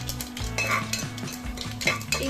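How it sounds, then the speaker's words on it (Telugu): Asafoetida dropped into hot oil in a cooking pan, a light sizzle under repeated clinks and scrapes of a stirring utensil against the pot, close and steady. "ఇంగు వేసుకోవాలి పింగు అయినా పర్వాలేదు పౌడర్ అయినా పర్వాలేదు"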